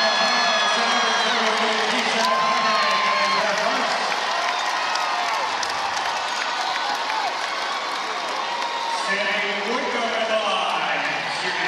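Crowd cheering and applauding in a basketball arena during the final seconds of a WNBA game between the Connecticut Sun and New York Liberty, a loud, steady roar under a commentator's voice throughout.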